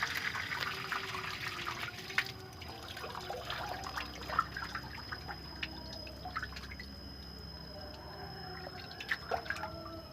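Water runs into a fish pond used for breeding snakehead fish, a faint, steady trickle punctuated by scattered drips and small splashes.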